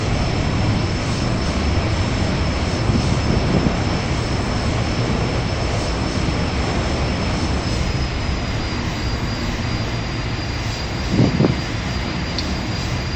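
A Northrop T-38 Talon in X-Plane 11 roars on afterburner over Svalbard, a constant loud, dense jet rush with one brief swell near the end and no talk.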